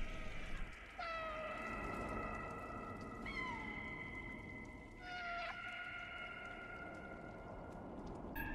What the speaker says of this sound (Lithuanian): Kas čia miauksi?